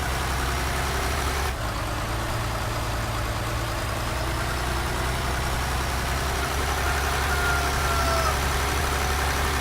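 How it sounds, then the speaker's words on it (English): A farm tractor engine with plenty of horsepower runs at a steady, even drone throughout, close and fairly loud, with no talking over it. "This is a really nice tractor. It has plenty of horsepower, and it's not overly loud."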